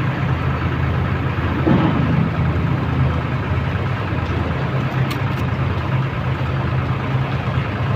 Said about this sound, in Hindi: ये देखिए महिंद्रा 265 लगा रहे ट्रैक्टर।